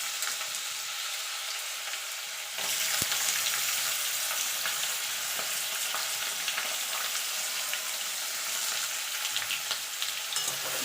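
Carrots frying in a pan for fried rice give a dense, continuous sizzle that jumps louder partway through as stirring begins, with occasional scraping clicks and no voices.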